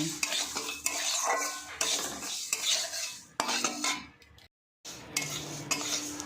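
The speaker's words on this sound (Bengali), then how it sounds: "এবারে আমি মুগ ডালটা দিয়ে দিচ্ছি দিয়ে ভালো করে আবার নেড়ে নিচ্ছি" Rice and mung dal stirred in a pan with a spoon: steady scraping and clinking of utensil against metal, close and fairly loud, with a brief silent break before the stirring resumes.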